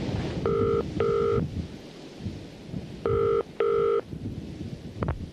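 A telephone handset is lifted and a number keyed in: two pairs of dual-tone dialing beeps in quick succession, a pause, then two more, ending with a short click, loud and clear over a soft background hiss.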